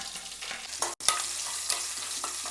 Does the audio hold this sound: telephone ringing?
no